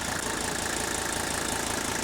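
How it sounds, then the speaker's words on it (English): Mercedes OM617 turbo diesel engine idling on diesel purge, a dense, rough, knocking clatter that stays even and loud from start to finish. "if you've never heard an OM617 turbo diesel engine run on diesel purge, I thought I would show you this"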